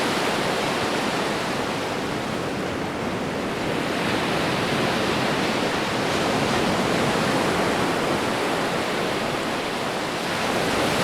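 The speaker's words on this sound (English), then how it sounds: "Videos circulating on social media show streets turned into raging rivers," Floodwater rushes through city streets during severe flooding in Italy, a loud, continuous roar of churning water with no pauses or voices.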